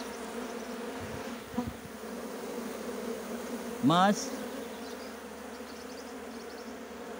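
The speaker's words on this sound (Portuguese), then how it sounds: "é uma caixa com muita abelha," Honeybees in an open, crowded hive box make a steady low hum throughout. A brief louder rising buzz passes close by near the end, and a short spoken word is heard under it.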